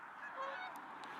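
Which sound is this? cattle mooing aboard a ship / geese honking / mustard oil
geese honking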